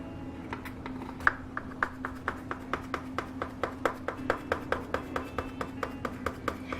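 Knife slicing through a pan of cheesecake brownies, a steady series of soft, evenly spaced taps and thuds on the pan, close and fairly quiet over a constant hum.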